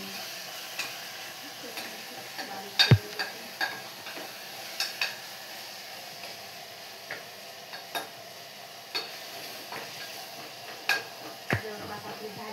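Masala rice being stirred and sautéed in a pan, with a soft continuous sizzle and scattered light scraping taps of a spoon against the pan, fairly quiet and close, without talk.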